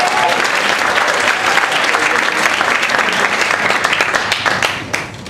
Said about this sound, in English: Let's hear it for our MC, Pat Dixon.